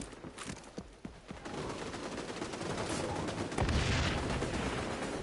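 Rapid gunfire from the shooter game XDefiant crackles in quick shots, then turns into a dense, rising wash of fire and blasts, loud and continuous with no talking.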